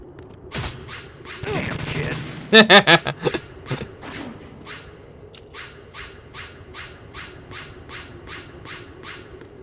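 Metal Gear Solid 2 game gunfire, a sharp cluster of shots followed by a steady series of evenly spaced bangs and clanks, moderately loud over a low droning background.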